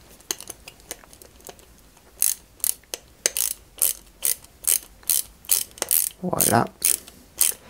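Screws driven by a ratcheting screwdriver into a 1/8 scale Ferrari 330 P4 model kit, a run of sharp clicks turning into steady rhythmic ratchet bursts, close, with a brief spoken word.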